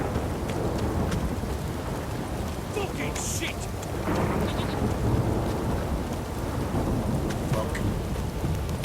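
Rain and rolling thunder in The Witcher 3 storm weather, a steady dense downpour with deep rumbles swelling midway, while a man curses briefly over it.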